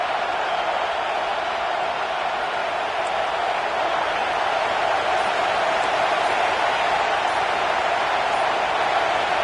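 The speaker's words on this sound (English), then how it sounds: "The Tide crowd rolling noise down onto Saban Field on third down." Loud, steady roar of a football stadium crowd at Saban Field during an Oregon vs Alabama game, sustained on third down with no break across the whole stretch.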